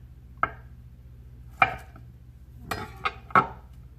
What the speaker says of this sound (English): So I'm going to show you guys how to cut a concassé tomato